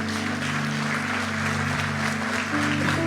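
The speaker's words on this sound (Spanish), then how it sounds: "Dale un aplauso a tu Rey." Applause breaks out among the congregation at an evangelical Spanish-language church worship service, a steady sustained clapping that holds at one level for the full few seconds under a low background hum.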